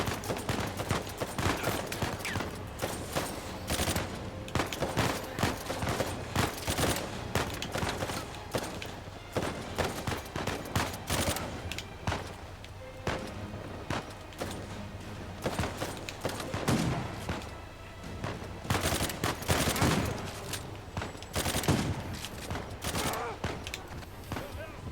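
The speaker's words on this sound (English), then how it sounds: "Maybe the gunfire's coming from the gunfire shop." Gunfire in the video game Uncharted 4: bursts of shots and rapid volleys rattle at close range in irregular clusters, with quieter stretches between them and game sounds underneath.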